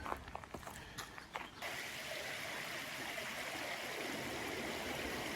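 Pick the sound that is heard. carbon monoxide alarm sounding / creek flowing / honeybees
creek flowing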